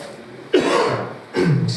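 Two coughs, close and fairly loud, the second following under a second after the first.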